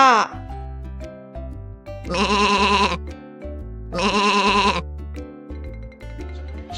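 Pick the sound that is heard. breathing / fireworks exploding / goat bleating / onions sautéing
goat bleating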